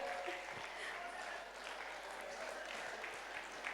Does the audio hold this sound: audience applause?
yes